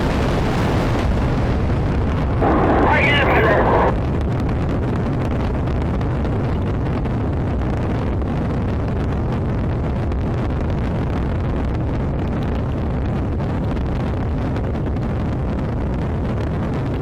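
Rocket engine ignition in the video game Roblox, a sudden hissing burst of about a second followed by a sustained heavy roaring rumble that continues steadily, loud and close.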